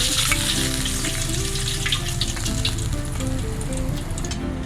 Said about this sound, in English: Now I'm going to fry the ginger for garnishing using the same oil